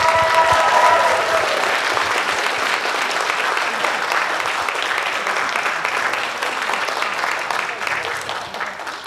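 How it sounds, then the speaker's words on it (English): Warm sustained applause from a Lutheran church congregation honoring its youth and family director, loud at first and slowly easing off, with brief sung tones near the start. "Let's give her a applause."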